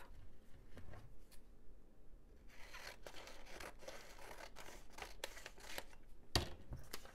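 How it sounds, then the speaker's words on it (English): Scissors cut through a sheet of paper at close range while a square is trimmed for an art chart, giving a series of crisp snips and rustling paper with no talk. "So I'll use my scissors and cut that off."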